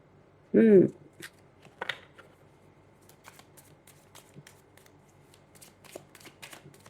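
Tarot cards are shuffled by hand, producing faint, scattered soft riffles and light ticks, with a brief louder vocal-like burst near the start.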